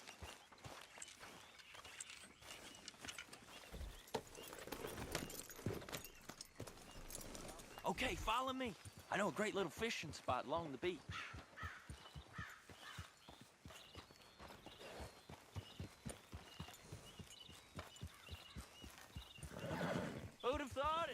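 Horse neighs and hoofbeats from the Red Dead Redemption 2 game, with a whinny standing out partway through as the horse moves off, all under steady talking voices and game ambience.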